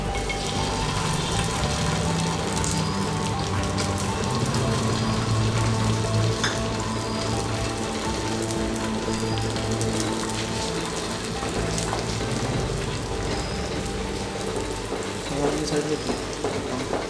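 A lake fish egg omelette cooks in a hot oiled pan, spread thin like a dosa, giving a steady, close crackling sizzle that fills the whole stretch with faint scraping now and then.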